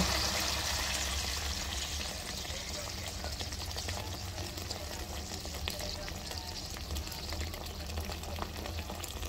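A pot of Filipino sopas with noodles in about 1.5 liters of water simmers on the stove, giving a steady, soft bubbling hiss that holds evenly throughout.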